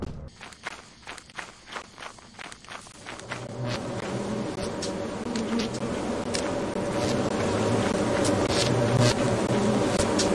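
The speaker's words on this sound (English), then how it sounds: "More bees that are glitched." Glitched bees stuck inside rock in a video game. A steady insect buzz swells and holds, with footsteps crunching at first and then fading under the growing drone.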